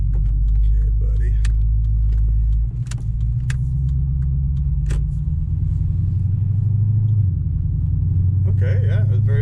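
Infiniti Q45 sedan driving after a transmission control swap, heard from inside as a loud, steady engine and road rumble whose pitch drops and climbs again through gear changes; a person speaks near the end.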